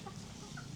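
Kampung chickens on a farm cluck softly in a short burst of low, faint calls against a murmuring yard background.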